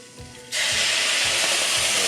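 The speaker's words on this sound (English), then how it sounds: "Ooh, sizzle, sizzle." Rhubarb with sugar and a drop of port hits a hot pan and bursts into a loud, steady sizzle that continues close by, after a quieter moment of low thuds.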